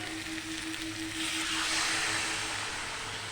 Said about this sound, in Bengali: এবার এটাতে জল ঢেলে দেবো